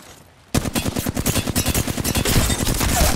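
Rapid automatic gunfire in Apex Legends breaks in suddenly after a half-second of quiet, then a fast, even stream of loud, close shots continues to the end without speech.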